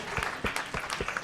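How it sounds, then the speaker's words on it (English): Audience applause at a children's final presentation, a short burst of scattered clapping at moderate volume with no talk over it. "And a round of applause."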